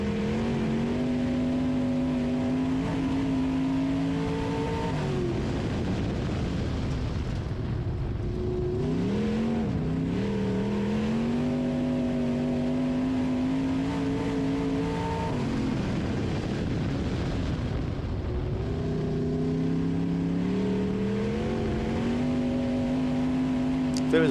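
A dirt-track B-mod style race car engine pulls hard down the straightaways near 7,200 rpm, a loud continuous drone with pitch rising and falling as the car laps, heard close and steady throughout.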